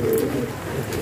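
Tonk pigeons coo steadily in a low, soft murmur, a continuous close warble of several birds together with no talk over it.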